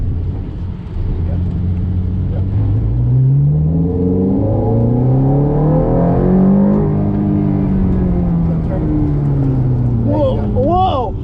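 A 2007 Ferrari F430 engine rises and falls in pitch through revs after a downshift, a loud, close, continuous engine note with shifting harmonics, while a voice speaks near the end.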